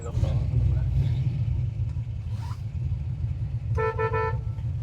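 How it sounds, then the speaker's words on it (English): A short 1969 Camaro Z28 horn beep sounds near the end over a low idling engine rumble inside the car. "horn works."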